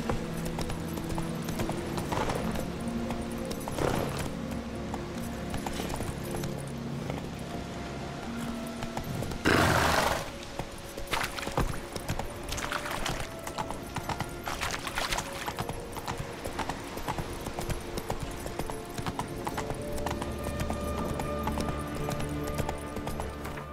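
Roach, Geralt's horse in The Witcher 3, gallops with a steady clip-clop of hooves through a long stretch, moderately loud, with a brief louder burst partway through and faint game ambience behind.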